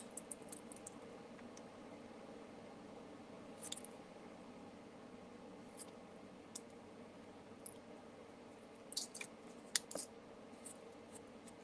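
Faint, sparse snips and small clicks of scissors trimming a paper card during cardmaking, quiet and close against a low background hum.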